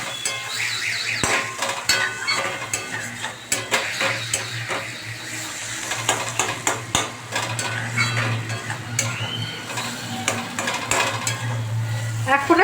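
Rohu fish heads fry in a pan, with steady sizzling and repeated metal scraping and clanks of a spatula stirring throughout.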